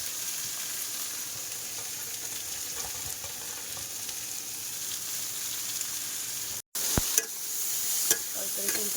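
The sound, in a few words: curry being stirred and braised in a pan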